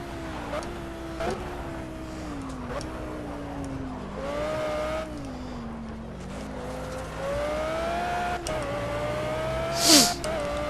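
An Audi R8 GT3 race car laps a track in Project Cars on Xbox One. Its engine whines in a steady, close drone, rising through the gears with quick downshift blips and a brief sharp burst near the end.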